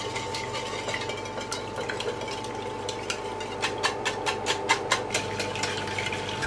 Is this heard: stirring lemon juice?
yes